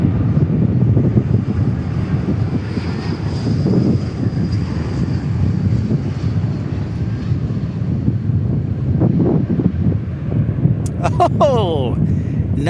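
A fixed-wing airliner lands at DFW Airport, heard as a loud, sustained rumbling roar with wind buffeting the microphone, and a voice speaking over it.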